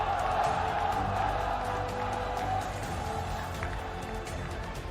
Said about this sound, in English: you can hear the crowd as well, how excited they are to see Team Seoul finally come through big